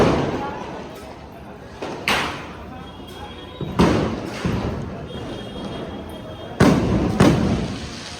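Firecrackers go off during Diwali celebrations, several sharp bangs spaced irregularly with some close together, loud and near, while people talk throughout.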